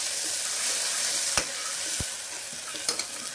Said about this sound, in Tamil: ஒரு 2 நிமிஷம் வதக்கலாம்.